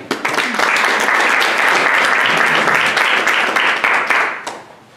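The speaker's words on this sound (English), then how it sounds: "please give a round of applause to Mr. Lee Johnson" An audience at a rehab boot camp session gives Lee Johnson a round of applause, loud and dense throughout, then fading out near the end.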